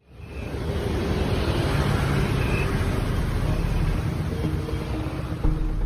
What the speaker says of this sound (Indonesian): Suara mesin kendaraan mulai memenuhi sejumlah stasiun pengisian bahan bakar umum atau SPBU di Banda Aceh pada pertengahan bulan Juni ini.